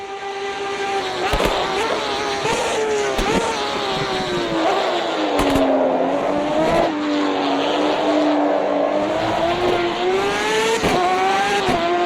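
A race car in the sim game Automobilista 2 brakes hard, the engine note falling and rising as downshifts crackle, with tires squealing and sharp pops scattered throughout, loud and close, no voices.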